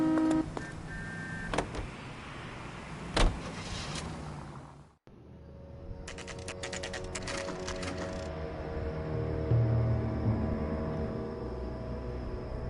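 A car driven in the video game LA Noire: a steady engine drone with tire and road noise that runs continuously, preceded by a few sharp knocks and clicks and a short drop to near silence.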